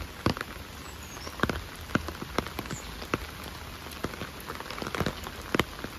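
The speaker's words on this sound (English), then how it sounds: "looking out over the water, listening to the rain" Steady light rain patters on a surface overlooking water in Copenhagen, with scattered louder drips standing out at irregular moments throughout.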